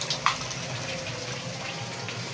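Tap water gushes steadily into a container being filled for bathing at a home in Cuba, a continuous close rushing flow with a brief clatter near the start and no talk.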